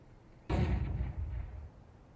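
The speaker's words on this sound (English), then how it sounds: "flashbang" A flashbang grenade detonates in a video game with one sudden loud blast followed by a booming, fading rumble.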